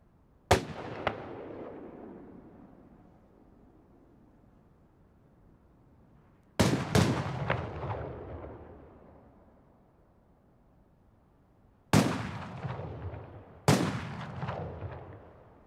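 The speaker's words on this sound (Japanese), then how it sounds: "花火動画図鑑。 円付き四角形。" Simulated firework shells with a square and ring burst pattern go off in four sharp booms, each trailing into a long fading crackle and rumble, the last two close together, with no voices.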